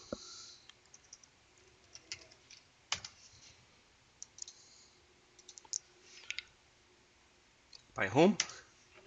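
Faint, sparse keystrokes on a computer keyboard while typing commands into a Windows command prompt, with scattered clicks and a louder clatter near the end.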